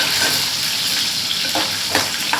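Small onions and tomatoes sautéing in a pan for an okra tamarind curry, a loud, dense, continuous sizzle close up with a few brief stirring scrapes over it.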